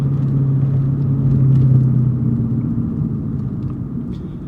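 A Lexus IS-F's engine and exhaust rumble steadily and deeply during a slow U-turn, swelling slightly in the middle before easing off, with no one talking.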